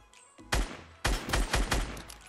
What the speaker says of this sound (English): Missed my first couple shots, but got him anyway